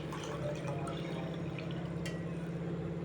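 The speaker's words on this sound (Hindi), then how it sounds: "2 गिलास पानी डालेंगे।" Two glasses of water poured into a cooking pot on a lit gas stove for Sindhi-style vegetable soup, a steady splashing trickle throughout, close and moderate under a low hum.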